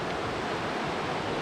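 A shaded creek in Emigrant Gulch, Montana, with unmelted snow on its banks, rushes in a steady, close, full-bodied wash of flowing water, with no voices.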